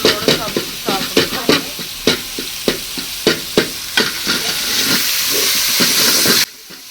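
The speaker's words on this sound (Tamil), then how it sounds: "தக்காளி வெங்காயம்லாம் சூப்பராக நல்லா வதங்கி எண்ணெய்லாம் பிரிஞ்சு" Tomatoes and onions sauté in oil for a meat gravy, with close, regular stirring scrapes over a hissing sizzle. The stirring stops and the hiss carries on alone until it cuts off abruptly.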